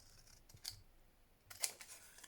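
Scissors cut out a small paper tag for a junk journal craft: a few quick, close snips come in two brief bursts, separated by quiet handling, with no talking.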